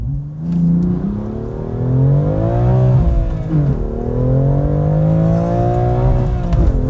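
A 2020 BMW M2 CS with a manual gearbox and a 3-liter turbocharged inline-six revs hard under acceleration, its engine note climbing, dipping at a gear change, then climbing again, loud and close from inside the car.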